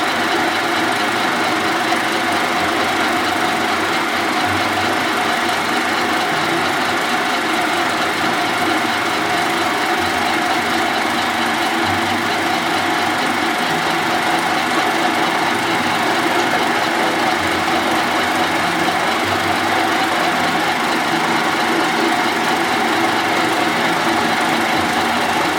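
A horizontal boring mill cuts a few thousandths into boiler work, giving a steady, loud mechanical drone with a fixed tonal hum that runs unbroken throughout, with no talk.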